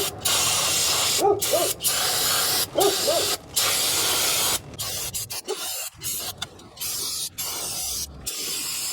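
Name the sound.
spraying brake cleaner on a Honda Odyssey rear brake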